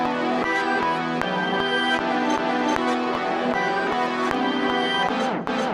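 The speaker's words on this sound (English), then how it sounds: "I just dragged in a sample I made this week" A producer-made music sample for a hard beat plays with dense layered melodic tones and regular rhythmic hits, loud and continuous with no voices.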